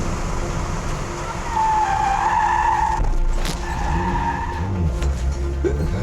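A car sliding sideways and losing grip while drifting in treacherous conditions, its engine droning steadily with a drawn-out tire squeal rising and falling over about six seconds, loud and close throughout.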